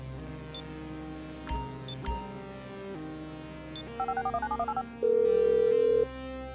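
Mobile phone in Grand Theft Auto V dialing a number: a rapid run of short electronic key beeps, then a sustained tone like a ringing connection, over a low game background hum with no talk.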